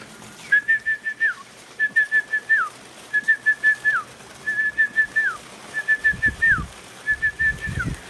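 A person whistles to day-old quail chicks, a repeated series of short trilled notes, six pulsing bursts at a steady pace, close and clear, with faint rustling underneath.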